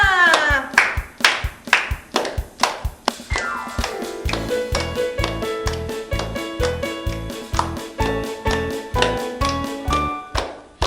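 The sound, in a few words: children clapping hands to music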